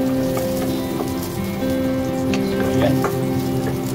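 Garlic fries in oil until golden brown, giving a steady sizzling crackle with scattered pops. A short spoken remark lands near the end.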